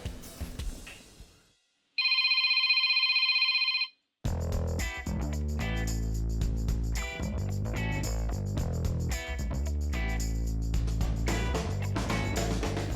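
A telephone rings for about two seconds with a steady electronic trill, alone and clear, before it cuts off and continuous loud music takes over.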